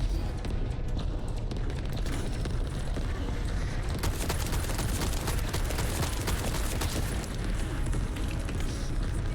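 Sustained gunfire and booming blasts from The First Descendant video game, a dense continuous barrage of rapid shots and explosions filling the whole stretch, loud and close, with a voice talking over it.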